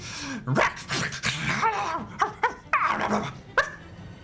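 A human voice imitating a hyena-like dialect yelled into a horn: a loud burst of barking yelps, whoops and whining cries with sharp rising and falling pitch, delivered in choppy phrases.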